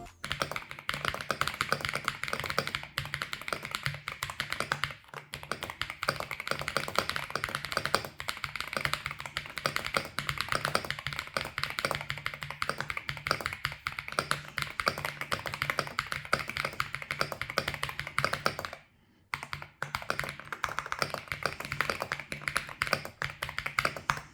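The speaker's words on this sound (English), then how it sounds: "I have never met such a poppy keyboard without any modifications." Steady, fast typing on an unmodified Epomaker Shadow-X mechanical keyboard with Wisteria linear switches, crisp, poppy keystrokes, close up and continuous, with one brief pause near the end.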